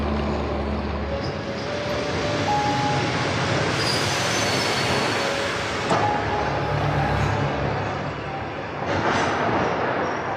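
Passenger train running along the rails, a loud continuous rumble with wheel squeal rising and fading as the cars roll past nearby.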